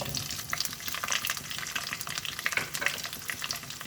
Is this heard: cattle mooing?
no